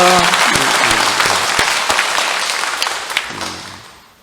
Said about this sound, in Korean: 더 큰 환성과 큰 박수.